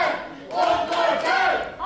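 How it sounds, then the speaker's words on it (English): A wrestling crowd at an independent show calls out for a stunner, a loud massed roar of voices swelling and holding close for a couple of seconds. "The crowd's calling for one more time."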